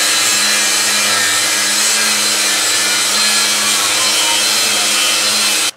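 A power saw cuts through the long steel bolt ends on a Dodge Ram 2500 Cummins leaf spring, a loud, steady grinding whine close by that runs without pause and stops abruptly at the end.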